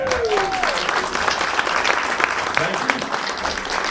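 Concert audience clapping during a live show at The Station in Louisville, a steady mid-level wash of applause while someone briefly speaks over it.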